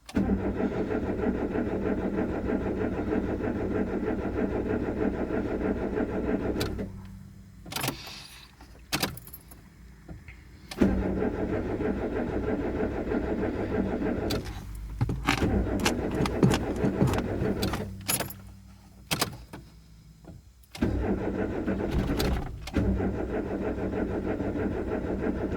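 A Peugeot 205 at the end of its life, running on ethanol at -10°C, cranks and fires up repeatedly: loud close starter churning broken by pauses and clicks, then the engine catching and running rough.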